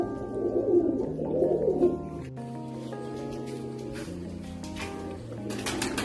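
Pigeons coo steadily inside a room fitted out as a pigeon loft, the rolling calls layering over one another, strongest and closest in the first two seconds and softer afterwards.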